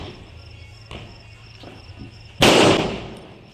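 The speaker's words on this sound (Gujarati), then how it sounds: "આને જગાવી છે બુલેટ બોમ્બ કેવો જગે છે જોઈએ" A bullet bomb firecracker set off during Diwali bursts with one sharp, loud bang that decays into a crackling hiss, preceded by quiet night ambience with insect chirping.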